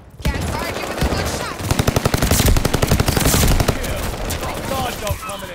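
Gunfire in the shooter game Call of Duty Vanguard: loud, rapid machine-gun bursts with dense, rattling shots that build into a sustained volley before trailing off, with faint voices in the background.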